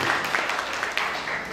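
An audience at a work-culture lecture in an Indonesian vocational school applauds for the big boss, a brief burst of moderately loud clapping with some voices mixed in.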